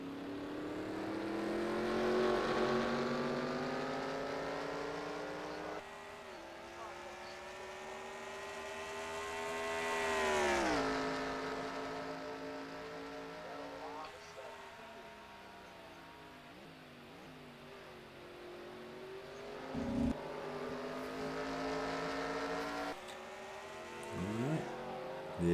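Race cars circle the Charlotte Roval road course during a 2022 season race, engines droning with rising and falling whine as they pass and shift, heard at a distance as a continuous layered roar without nearby talk.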